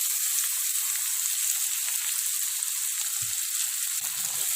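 Chopped banana flower fries in a pan with a steady, bright sizzle throughout, joined by a couple of faint low knocks near the end.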